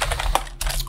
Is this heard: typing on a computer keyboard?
yes